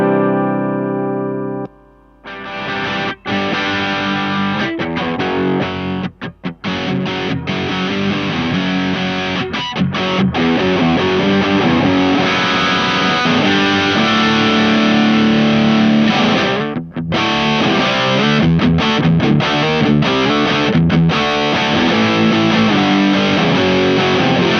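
Electric guitar, a PartsMasterCaster Blaster, played through an MXR Power 50 overdrive pedal: loud, saturated distorted chords and riffs ring continuously, with brief gaps between phrases, after a short quieter opening.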